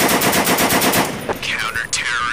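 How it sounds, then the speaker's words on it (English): A heavy Maxim machine gun fires in Counter-Strike, a loud rapid burst of evenly spaced shots that cuts off partway through. A short electronic game tone and sweeping effects follow. "Counter-Strike used to have heavy machine guns"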